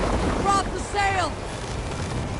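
Viking boat sailing through wind on a fjord in Assassin's Creed Valhalla, a steady rushing wind and water noise with brief creaks and a few short vocal sounds over it.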